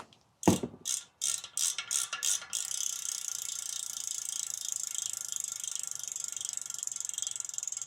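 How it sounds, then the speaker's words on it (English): A Shimano GRX carbon gravel wheel's freehub clicks in a few slow bursts of ratcheting, then spins into a fast, continuous buzzing tick, close and clear. "you want to hear what this free hub sounds like"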